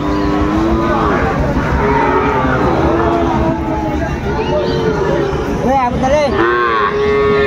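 A Sahiwal bull calf and other cattle moo loudly amid the noisy bustle of a crowded livestock market in Raniganj, with people talking throughout and several drawn-out lowing calls rising above the din.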